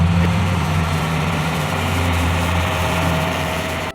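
A heavy tractor engine idles with a steady, low rumble, close and loud throughout, with no voices.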